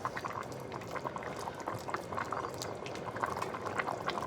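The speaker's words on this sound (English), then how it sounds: "We're coming up to a good boil." A pot of Cajun pastalaya liquid on high heat reaching a rolling boil, a steady close bubbling and churning with a constant soft roar, no voices.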